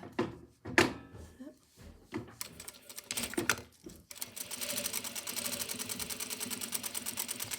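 A sewing machine stitches the shoulder seams of a jacket, starting after a few handling thumps and clicks, then running in a steady rapid rattle for several seconds.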